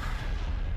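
A heavy explosion booms as a target is destroyed in a Call of Duty: Modern Warfare II air strike, a short loud low rumble with no voices.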